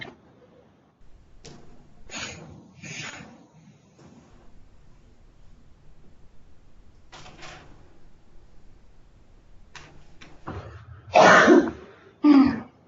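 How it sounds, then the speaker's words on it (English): A few scattered coughs and throat clearings in a quiet classroom, ending with two loud, harsh coughing bursts close by. "No coughing in class."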